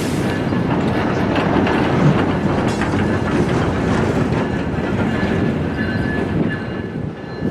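An industrial freight train rolls past in Miami near the Douglas Road grade crossing, a loud, continuous rumble with rhythmic clickety-clack of wheels over rail joints and faint squealing, close by and alone without speech.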